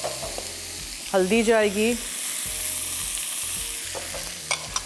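Masala of ginger-garlic paste, whole cumin and tomato frying and being stirred in a pan for chicken spinach curry, a steady close sizzle with scraping stirs, while a voice talks briefly partway through.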